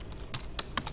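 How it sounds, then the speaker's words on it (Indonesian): Computer keyboard typing in an accounting-software tutorial, four crisp key taps within a second, close and fairly quiet, with no talk. "kalau kita terbiasa menggunakan keyboard, tekan tombol ALT plus N"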